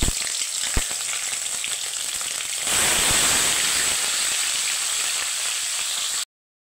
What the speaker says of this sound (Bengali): এখন আমি ফুলকপি আলুটা একটু ভেজে নেব।